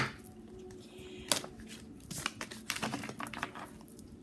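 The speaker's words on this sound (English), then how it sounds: "I'm going to shuffle again." Soft papery riffling and tapping of tarot cards being shuffled, quiet and close, in quick uneven bursts with no talking.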